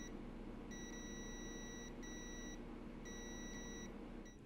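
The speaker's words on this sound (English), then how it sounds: "I'm using my multimeter on continuity mode just to make sure everything's making a proper" A multimeter in continuity mode beeps while probing connections on a neglected Xbox One S controller, giving three steady high-pitched tones of roughly one second each over quiet room noise.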